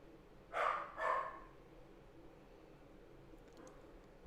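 A dog barks twice in quick succession from another room, muffled and moderately loud against a quiet background, followed by a faint click.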